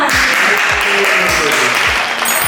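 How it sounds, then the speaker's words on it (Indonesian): Sustained audience applause during an MC school presentation, a dense continuous wash of clapping at full loudness throughout, with a low rhythmic thump underneath. "Tepuk tangan untuk kita semua"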